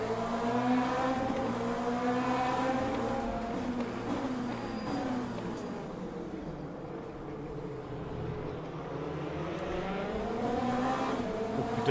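Race cars, LMP2 prototypes in the sim racing game Le Mans Ultimate, give a steady loud engine drone with shifting pitch throughout.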